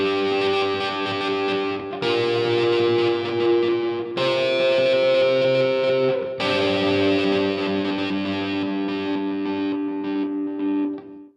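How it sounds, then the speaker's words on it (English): Electric guitar played through a Headrush pedal, its echo and reverb effects switched on and off in a rhythmic pattern, giving distorted, chorus-tinged sustained chords with abrupt changes every couple of seconds, loud and alone. "so that's why I had the effect, the echo and the reverb turned on"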